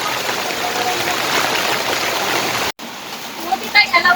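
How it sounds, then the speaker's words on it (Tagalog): Heavy, sudden downpour at a home in the Philippines, a steady dense hiss of rain that cuts out briefly, then returns softer with a few short high chirps and voices near the end. "Lakas ang ulan."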